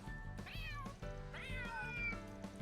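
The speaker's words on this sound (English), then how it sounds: "He is a handsome orange cat." A handsome orange cat in the video game Trails through Daybreak 2 gives two clear meows, each a rising then falling cry, over a steady low background hum.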